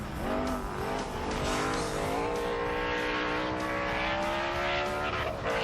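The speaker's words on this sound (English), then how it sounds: "ripping up the hill here in the Tundra truck, and he ain't taken any prisoners" A Toyota Tundra race truck at a 2001 hill-climb race charges up the course, its engine roaring loud and sustained with shifting revs and no talk over it.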